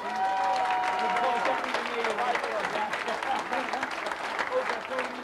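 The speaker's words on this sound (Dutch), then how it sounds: "Dames en heren, ik geef nog een extra applaus." Sustained applause from a crowd, dense clapping that holds steady throughout at a fairly loud level, with a few voices faintly mixed in.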